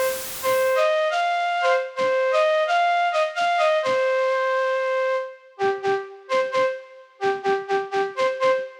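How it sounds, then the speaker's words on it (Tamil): A flute patch on an AKAI MPK mini MIDI keyboard plays a short melody of clear, pure synthesized notes, some held and some quick, with brief pauses between phrases. It is heard alone, without speech. "ஸோ இது வந்து ஃப்ளூட் சவுண்ட்."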